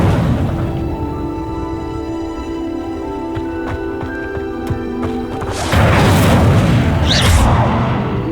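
In the Hogwarts Legacy video game, the Incendio fire spell goes off in a loud broadband whoosh and burst of flame near the end, after a stretch of sustained tonal music.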